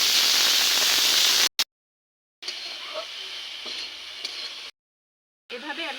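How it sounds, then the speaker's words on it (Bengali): Dried fish with salt, turmeric and chili powder frying in a pan, a steady sizzle with faint stirring scrapes, broken by brief silences. "এভাবে আমি নেড়ে ফিরে ভেজে নেব।"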